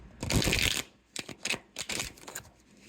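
Tarot cards shuffled by hand in a close, dense riffling burst for about a second, followed by several shorter separate card flicks and slaps.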